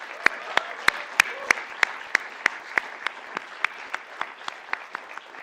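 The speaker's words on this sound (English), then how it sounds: "I think they deserve a big round of applause." At a share listing ceremony, a steady rhythmic clapping beats out about twenty sharp, evenly spaced claps, loud at first and gradually fading over a soft bed of background crowd noise.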